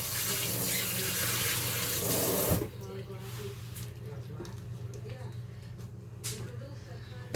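Tap water runs loudly into a kitchen sink as hands are rinsed while making a sausage brunch casserole, a steady rushing stream that stops abruptly partway through, leaving quieter room sounds.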